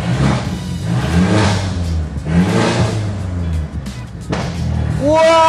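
A Mercedes-Benz E300 AMG coupe with a modified exhaust revs repeatedly, swelling in loud waves. Crackling blowback pops follow near the end, close to the listener.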